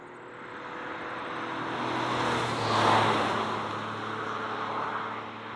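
A 2024 Lexus LBX runs on its small petrol engine alone around a test track, a steady strained drone with broadband road and wind rush that swells to a peak midway and then eases slightly.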